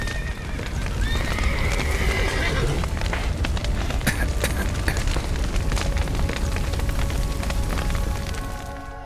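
Horses whinny and hooves clop in the video game The Witcher 3: Wild Hunt amid a dense, loud battle din of rumbles and booms, with voices shouting underneath.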